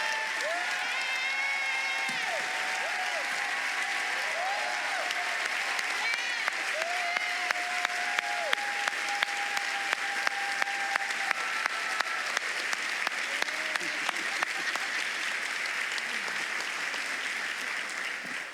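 Sustained audience applause fills a large hall at a school district awards ceremony, steady and dense throughout, with faint voices and a few cheers mixed in.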